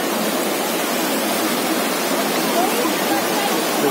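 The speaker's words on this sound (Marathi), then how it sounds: "तुम्ही बघताय ही वाहती गंगा." The Ganga flowing fast with glacial meltwater past the ghat at Gangotri, a steady loud broadband rush of water filling the whole stretch with no pauses.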